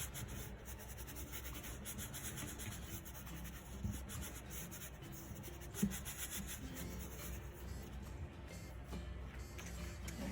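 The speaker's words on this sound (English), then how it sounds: "Pressing down firmly and rubbing with the tops of my hands." Hands pressing down firmly and rubbing over paper during an art-room portrait project, a steady soft scraping texture that runs continuously at low level throughout, with one brief louder bump midway and no talking.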